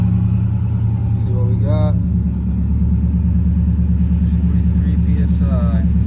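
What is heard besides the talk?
Mazda RX-8 engine starting and running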